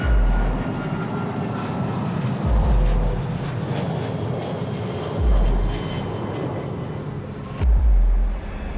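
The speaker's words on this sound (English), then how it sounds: "Flight MH17 takes off at 12:15 p.m." A Malaysia Airlines airliner, flight MH17, takes off, its steady jet engine roar filling the scene with low rumbling surges that swell and fade several times, loud and continuous with no voices.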